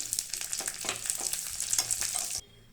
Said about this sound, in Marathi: सर्वप्रथम मी तुपामध्ये ड्रायफ्रूट परतून घेते मनुका परतून घेते